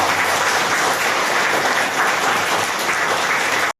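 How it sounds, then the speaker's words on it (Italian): Steady, dense applause from a crowd at a youth football trophy event, continuous and loud throughout before cutting off abruptly at the end. "Un applauso ancora."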